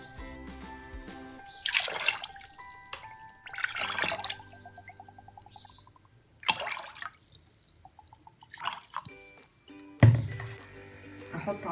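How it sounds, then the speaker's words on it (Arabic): Cups of water are poured in separate bursts over sugar to make basbousa syrup, with splashing pours and drips set apart by pauses while someone talks in between. "هضيف 5 كوبايات من الميه"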